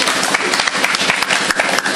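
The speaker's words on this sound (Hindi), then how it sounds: "ज़ोरदार तालियों से इस्तकबाल करें" Audience at an Urdu mushaira poetry gathering breaking into dense, loud applause, many hands clapping rapidly and continuously at close range with no speech over it.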